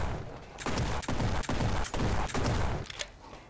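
Gunfire in The Red Solstice 2 rattles in a dense, steady string of repeated shots lasting a few seconds, loud and close, with no talk over it.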